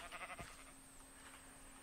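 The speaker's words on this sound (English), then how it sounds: "The big deal is this sheep right here." Sheep bleating in the Minecraft video game, a short burst of bleats at the start, then quieter background, no talk.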